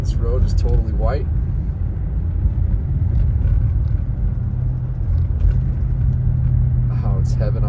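A car rolls down snow-covered Big Bear Boulevard in Big Bear, California, with a continuous low road rumble and tire noise, while people talk briefly at the start and again near the end.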